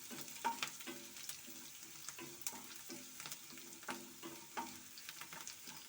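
Chopped ingredients for a sweet mango curry sauté in a pan, with a faint, quiet sizzle broken by repeated soft scraping stirs, and no voices.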